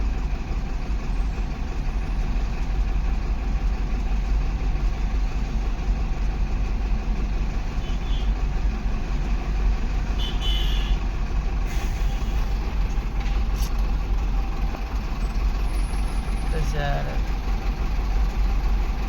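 Trucks and cars idle and rumble in heavy traffic in Pune, a steady loud low engine drone running unbroken throughout with occasional brief higher hisses like air brakes, and a voice talking over it.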